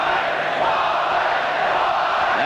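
Stadium crowd at a 1984 State of Origin rugby league match, a dense steady roar of many voices with a faint rhythmic chant rising through it, continuous and fairly loud with no single voice standing out.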